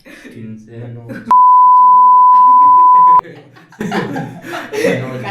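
A phone call beep: one long, loud, steady tone of about two seconds that cuts sharply in and out, with people talking and laughing before and after it.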